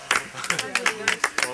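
A small studio audience claps on a game show, several short bursts of applause with distinct hand-claps under and between speech.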